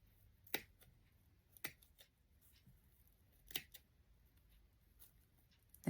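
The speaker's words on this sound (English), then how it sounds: "So let's just cut a little hole out." Scissors snip a small hole in a fairy party centerpiece, three or four quiet, sharp cuts spaced apart with near silence between them.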